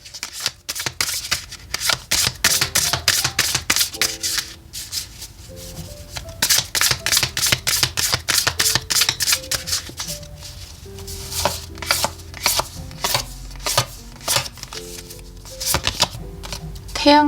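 Tarot cards shuffled and drawn by hand, a close run of rapid riffling and slapping bursts that stop and start, with soft background music tones underneath and no talk.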